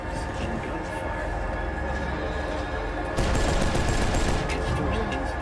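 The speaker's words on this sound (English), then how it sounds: "suddenly hear screams and gunfire." Rapid, dense gunfire from Cyberpunk 2077 rattles continuously over a rumbling background, growing louder and more intense partway through, like a heavy firefight.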